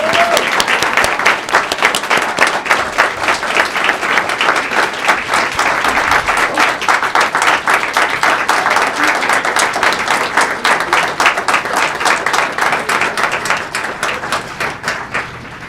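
Sustained applause from an audience at a school district board of education meeting, honouring outstanding educators; dense, steady clapping that continues evenly throughout, loud and close.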